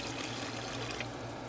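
Steady water pouring into a cooking pot of mash dal, a continuous soft splashing rush, fairly quiet and even throughout with no talking.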